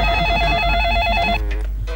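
A telephone bell rings loudly in a rapid trilling burst that stops partway through, heard alone in an indoor scene from a Hindi TV comedy serial.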